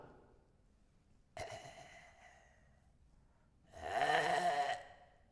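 A voice imitates the rattling, gurgling snore of a dying person, with a short snort followed by a longer, louder raspy throat rattle, close and alone in a quiet room.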